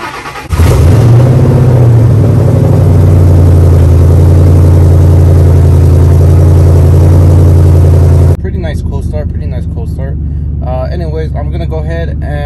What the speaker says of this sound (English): I'm gonna go ahead and head down to the 3-valve, give you guys a cold start